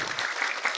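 A short burst of audience applause from a crowded Indonesian Pancasila gathering, with dense rapid clapping all the way through.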